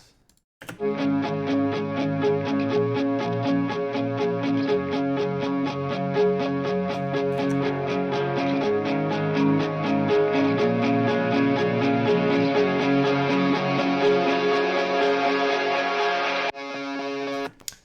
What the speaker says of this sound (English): So if we layer all the guitars together,